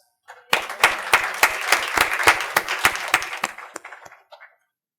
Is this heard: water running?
no